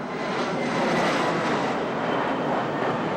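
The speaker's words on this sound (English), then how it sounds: "Low-flying planes are all too common here in South Minneapolis." A low-flying airplane passes over South Minneapolis, with a loud, continuous broadband engine roar filling the whole stretch and no voices.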